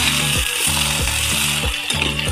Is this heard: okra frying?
yes